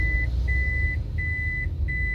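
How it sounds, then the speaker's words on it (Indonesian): A telephone disconnect tone on a live broadcast call-in: a steady electronic beep repeats in even, roughly half-second pulses with short gaps, over a low background hum. "Terputus nampaknya semua telepon dengan Pak Tony"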